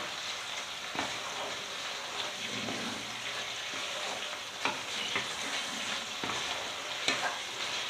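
Prawns stirred into a spiced mixture frying in a pan for Bengali bhuso chingri, a steady sizzle with scraping stirs and occasional clacks of the spoon, close and fairly loud.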